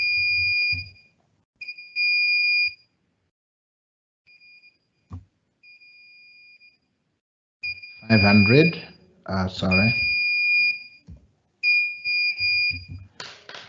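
Repeated bursts of a high, steady electronic beep tone from an Arduino-driven buzzer, cut off abruptly, interleaved with someone talking in between and over them.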